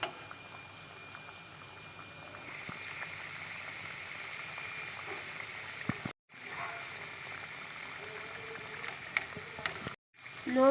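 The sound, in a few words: khaja pastries deep-frying in oil on low heat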